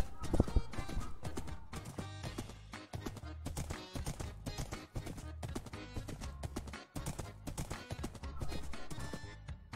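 Horse hooves clip-clop in quick, continuous rhythm in the video game Minecraft Bedrock, close and prominent throughout, with a brief neigh early on.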